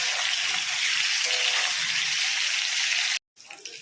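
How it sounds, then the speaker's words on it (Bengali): Eggplant and potato pieces sizzling loudly in hot oil with cumin and mustard paste, a steady dense crackle for about three seconds before a brief silence, then the sizzle resumes more softly. "এবার আমি জিরে আর সর্ষে বাটাটা দিয়ে দেবো। একটু ভালো করে কষে নেব।"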